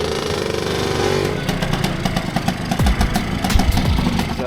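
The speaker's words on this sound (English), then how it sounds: "Yamaha MX. It was the favorite motorcycle for Pablo Escobar" A Yamaha MX motorcycle on a street in Medellin, Colombia, idling with a steady mid-pitched engine chug, then short blips and knocks as the throttle is worked, close by.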